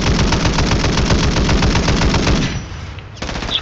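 Sustained rapid machine-gun fire in the Warzone 3 Plunder mode, a dense loud burst of automatic rounds that stops abruptly near the end, leaving a brief lull and a faint tail.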